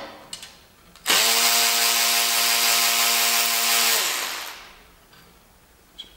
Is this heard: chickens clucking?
no